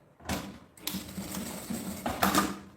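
A sewing machine stitches a backstitch on a zipper in short, rapid mechanical bursts with brief pauses between them, close up and fairly quiet.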